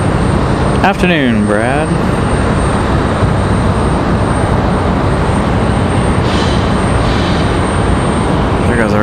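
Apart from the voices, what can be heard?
JetBlue Airbus A220 jet departing to Boston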